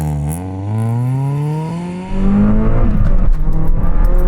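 Honda performance car engine revving hard and accelerating, pitch climbing steadily, then a brief dip at a gear change before pulling again at higher load; loud and close, no talking.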